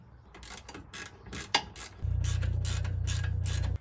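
Bolts being started by hand or with a ratchet on 20mm axle spacers of a Ford Fiesta ST150, giving close mechanical clicks and ratcheting, then a steady loud buzzing run from halfway through.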